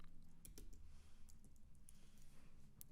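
Quiet keyboard typing during an R programming session, a few scattered sharp key clicks over a steady low background hum, no talking.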